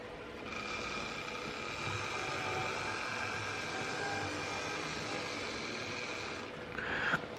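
A train pulling in at a station, a steady rumbling roar with tonal hum that holds for several seconds, then a brief louder clatter near the end.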